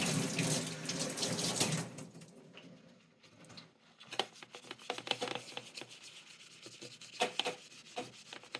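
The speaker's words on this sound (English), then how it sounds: "Now I'm going to do some more NutriClean and a magic eraser." Wet stained glass being scrubbed with a magic eraser and NutriClean cleaner at a sink: running tap water at first, then close, uneven rubbing and squeaky scrubbing strokes with water patter, no voices.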